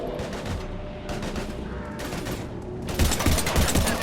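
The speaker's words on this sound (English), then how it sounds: "I've got Lieutenant Vega with me, but we're taking heavy fire" Rapid gunfire bursts from the video game Mass Effect 3 crackle in dense volleys, with automatic fire and sharp shots stacking up and growing louder toward the end amid combat noise.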